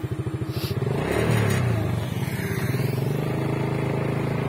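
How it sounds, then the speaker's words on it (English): An off-road motorcycle engine revs up close, starting with a rapid pulsing idle that rises into a loud, rough roar and then settles into a steady, throbbing run. "The motorcycle, the off-roader."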